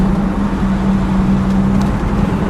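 A 1958 Chevrolet Impala two-door hardtop cruising along, with a steady low engine drone and road rumble heard from inside the car, continuous and fairly loud without speech.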